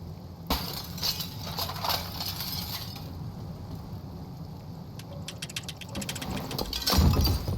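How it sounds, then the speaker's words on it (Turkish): A glass window smashed in the video game Detroit: Become Human: a sharp crash at the start followed by scattered tinkling shards and clinks, with another burst of breaking glass near the end, close and clear with no talk. "camı kır gir"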